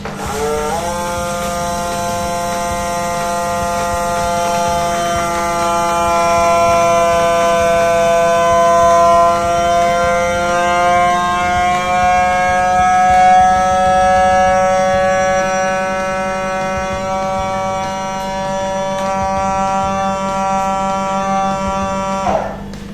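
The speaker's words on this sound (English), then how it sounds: "So just put it in a sealer, put it on. Oh goodness, I'm sealing the bag now." A vacuum sealer sealing a bag of fermented chilli gives a loud, steady motor whine that climbs gradually in pitch as the bag draws down, running nearly 23 seconds and then cutting off abruptly.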